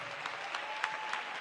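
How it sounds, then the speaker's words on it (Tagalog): A church congregation applauds the Lord during a mini crusade and church anniversary in Paliparan, Dasmariñas, Cavite. The crowd claps in a sustained patter with a few sharper individual claps standing out, and there is no talk over it. "Palapakan natin ang ating pinakamamahal na Panginoon."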